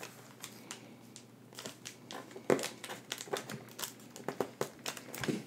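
Sheet of paper being creased and folded by hand into an origami dragonfly: a close, quiet series of irregular crinkles, rustles and sharp crease snaps, with a louder crackle midway, and no talking.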